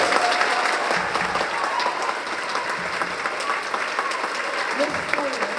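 A school concert band audience gives a sustained, dense round of applause for a band teacher at a spring concert, steady and fairly loud throughout.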